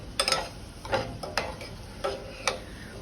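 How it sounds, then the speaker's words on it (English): Long grain rice being toasted in leftover oil in a pan, with a few soft stirring scrapes and faint crackles spread unevenly over a quiet background. "we're going to toast it in the residual oil that is in the pan"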